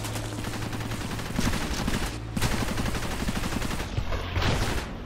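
Units in Cepheus Protocol fire guns in sustained bursts. Rapid automatic gunfire overlaps into a continuous, loud fusillade that runs through the whole stretch, with a few heavier pops.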